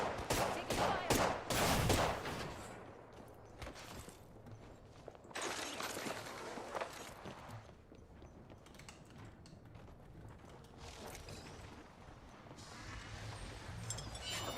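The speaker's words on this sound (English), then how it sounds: "Taking fire!" Gunfire bursts out in the battle royale game Apex Legends, with a loud rapid volley at the start and then scattered, fainter shots and impacts farther off over a steady background hum.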